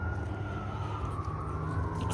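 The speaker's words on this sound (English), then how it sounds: "Excuse all the sirens." Emergency sirens wail faintly from a nearby highway, one thin, slowly falling tone drifting over steady low traffic rumble, distant and soft throughout.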